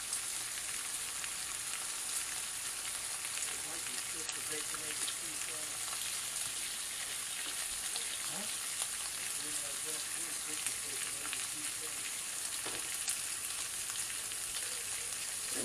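Bacon crackles and sizzles in a pan for a peanut butter and bacon sandwich, a steady dense frying hiss with scattered pops. Nobody speaks over it.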